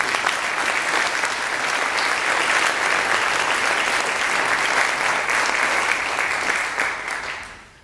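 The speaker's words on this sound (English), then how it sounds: "If we could give all those individuals a round of applause." An audience at an eighth-grade school band concert applauds in a thick, even wash of clapping that holds steady for several seconds before tapering off at the end.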